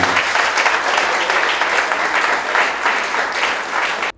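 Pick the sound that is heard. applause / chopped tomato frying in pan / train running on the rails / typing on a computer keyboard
applause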